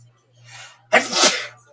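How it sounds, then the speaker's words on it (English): A close, loud sneeze: a soft breathy intake followed by a sharp explosive burst, heard alone over a faint steady hum. "One of the greatest sneezes of all time,"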